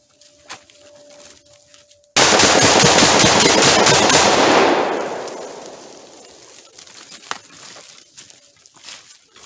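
An AK-47 rifle made by Riley Defense is fired in a fast magazine dump, a dense, loud burst of rapid shots lasting a few seconds that fades into a ringing, crackling tail, with scattered quiet noise before and after.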